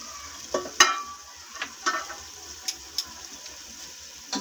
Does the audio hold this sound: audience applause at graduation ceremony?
no